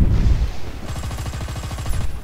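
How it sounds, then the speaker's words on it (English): Rapid machine gun fire in the War Thunder video game rattles off in a fast, even burst of close, loud shots after a brief low rumble. "Machine gun shot can't kill me!"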